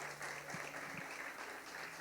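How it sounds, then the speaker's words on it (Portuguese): A church congregation claps during an evening worship service, producing a faint, steady wash of applause throughout with no clear breaks. "Então aplauda ao Senhor nessa noite."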